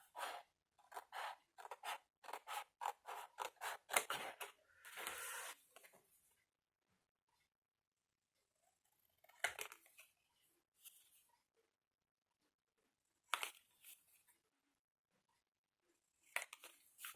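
Scissors cutting dark blue paper for a Christmas album make a rapid run of crisp snips, then sparse separate cuts with long quiet gaps between them, close and soft, with no voices.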